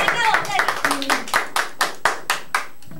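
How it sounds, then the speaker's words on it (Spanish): Applause for a guest on a Spanish-language radio show comes as a quick run of sharp, close claps that slow and spread out, with a brief whoop at the start. "un fuerte aplauso"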